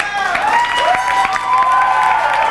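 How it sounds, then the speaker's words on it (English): Wrestling arena crowd roaring and cheering at the opening bell of a match, a loud sustained wash of voices and applause with sharp whistles and shouts throughout. "There's the bell, the crowd going nuts."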